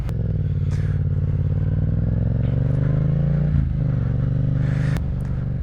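A Yamaha MT-07 motorcycle's exhaust rumbles steadily and loudly up close in a park in Houston, a deep throaty idle with a brief rev or clatter near the end.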